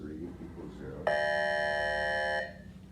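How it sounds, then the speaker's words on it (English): A school bell rings for the early morning zero hour, a steady electric buzzing tone that starts abruptly, holds for over a second and then cuts off, with faint voices in the room beforehand. "that's the bell for 0 hours,"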